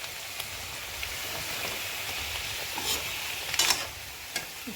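Onion, ginger and potato fry in oil in a wok with a quiet, steady sizzle. A few sharp scraping clinks of stirring come near the end.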